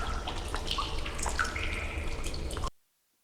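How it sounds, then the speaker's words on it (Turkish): Steady watery dripping and trickling of a stalactite in the video game Mine Racer, with scattered drops over a continuous wet background, cutting off abruptly near the end. "Yani sarkıta yaklaşırken bu ses geliyor."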